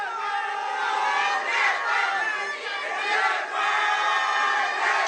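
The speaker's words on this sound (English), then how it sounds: "the crowd has been involved right throughout this fixture" Stadium crowd at a women's football match between India and Nepal, a dense sustained roar of many voices with surges of cheering and chanting, loud and continuous throughout with no single voice standing out.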